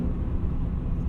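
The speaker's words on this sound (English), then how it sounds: "try to get some exhaust sound." A low, steady exhaust rumble from a 2008 BMW E60 M5 drones from inside the moving car, windows cracked, with road noise filling the background.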